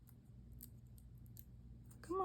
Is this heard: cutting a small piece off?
yes